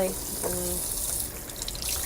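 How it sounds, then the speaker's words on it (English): Cold tap water runs steadily over fresh fruit and vegetables being rinsed at a sink after a soak, a continuous close splashing stream with faint voice traces early on. "I rinse them all off with some cold water"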